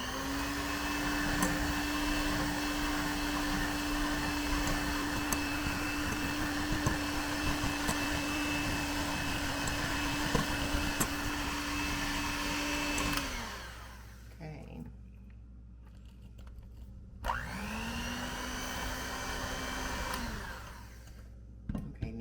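An electric mixer whirs steadily through cookie dough made with egg yolk and vanilla, running loudly for about thirteen seconds, stopping, then starting again briefly, with someone talking quietly over it.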